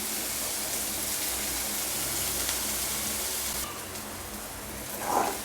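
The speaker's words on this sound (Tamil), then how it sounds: "பாருங்கள், வெங்காயம் நல்லா வதங்கிடுச்சு." Onions and curry leaves sauté in a pan for egg podimas, a dense, steady sizzle like rain that drops slightly in level partway through, then swells briefly near the end.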